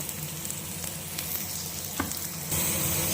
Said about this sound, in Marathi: आपण लसणसुद्धा फ्राय करून घेत आहोत